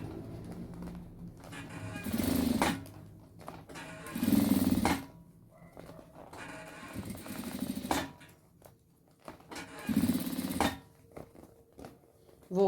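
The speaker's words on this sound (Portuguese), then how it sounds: "Agora, a gente faz toda a costura na volta" A sewing machine stitching around a mirror on a handmade bag, heard in several short bursts of rapid mechanical clatter separated by quieter pauses.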